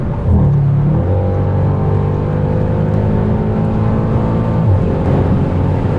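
A tuned Audi RS7 MTM accelerating hard at high speed gives a loud, continuous engine drone with rising tones, close and filling the whole cabin, with no talking.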